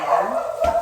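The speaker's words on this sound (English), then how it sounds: "that's my dog" A dog barks once or twice close by, a short sharp sound with no talking.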